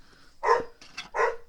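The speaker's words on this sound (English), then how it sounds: "And that is my dog barking." A dog barks indoors, two sharp close barks with a softer yip between them, loud and separate from each other with no talk over them.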